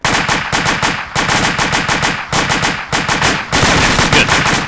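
Rapid automatic gunfire from the ARMA military video game, dense bursts of rifle and machine-gun shots in several long volleys separated by brief pauses, loud and close.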